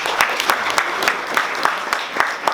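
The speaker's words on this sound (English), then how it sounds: "So a big round of applause to them." Audience applause after a speaker's introduction at a live talk event, a steady wash of clapping with sharper individual claps popping through, fairly close and continuous throughout.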